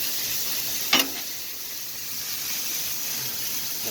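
Frozen fajita vegetables and steak sizzle on a Blackstone griddle, a steady even hiss throughout with one brief sharp clink of a utensil near the start.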